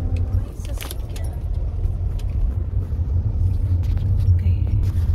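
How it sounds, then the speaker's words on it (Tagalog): A car passing on a suburban road on a weekday, a steady low engine and tyre rumble close by, with faint clicks and jangling and some talk over it. "May sasakyan guys."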